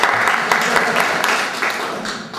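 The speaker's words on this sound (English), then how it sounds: "you get applause." Dense applause from a crowd fills the whole stretch, holding steady and then easing slightly, with a voice faintly mixed in.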